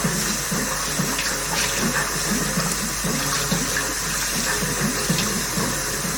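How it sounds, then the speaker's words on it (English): Tap water runs steadily while a cup is washed out at a sink, a continuous close splashing wash with small clinks and shifts in the flow throughout. "Let me just wash out my cup."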